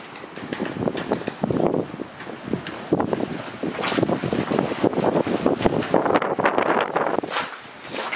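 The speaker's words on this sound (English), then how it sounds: "Proper windy up here, like." Strong wind buffets the microphone outside a large abandoned hospital and asylum, roaring in loud, uneven gusts that run continuously throughout with no speech.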